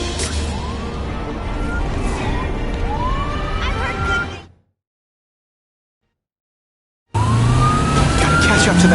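Car chase in The Amazing Spider-Man 2 game, engine roar and rising siren-like whoops over traffic noise, cut by a few seconds of total silence before resuming loudly.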